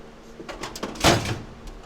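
A power drawer on a Cornwell shop toolbox slides along its track in a short, fairly close run of rolling and clunking, with a brief louder slide or catch at the end.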